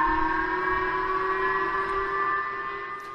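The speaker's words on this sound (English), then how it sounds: "The siren warned people in northern Japan about the launch." A civil defense siren in northern Japan warns of a missile launch, sounding a loud, steady multi-tone wail that holds throughout and only begins to fade at the end.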